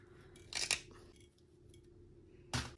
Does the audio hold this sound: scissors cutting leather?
yes